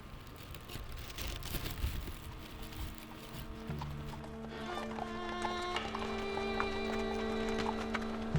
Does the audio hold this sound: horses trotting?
yes